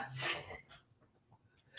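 A single close, loud sneeze bursts out at the start, followed by quiet breathing and faint murmurs.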